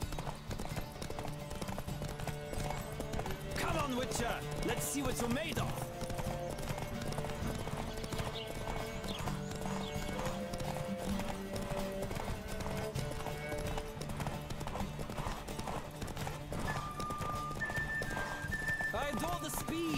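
A horse gallops in a race in The Witcher 3 video game, with steady rapid hoofbeats running continuously under game music and occasional voices.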